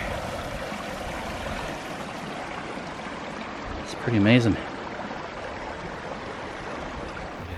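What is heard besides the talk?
stream water flowing over rocks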